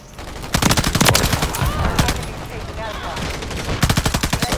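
Rapid automatic bursts from the TAQ Eradicator light machine gun in Modern Warfare 3, loud and close, firing in long sustained strings with short pauses and a faint voice underneath.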